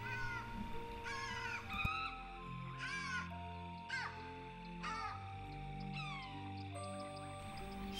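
A flock of birds calling over a mountain landscape in a classic Chinese period drama, with repeated harsh cawing and cat-like yowling cries in short bursts over a low rumbling music bed.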